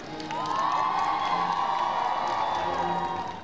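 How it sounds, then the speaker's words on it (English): A large crowd of well-wishers cheers and shouts continuously in the grounds of Windsor Castle as Prince Harry and Meghan Markle emerge married from St George's Chapel, a dense, loud roar of voices with high whoops swelling in and sustained throughout. "The new Duke and Duchess of Sussex were welcomed by a crowd of well-wishers inside the grounds of Windsor Castle"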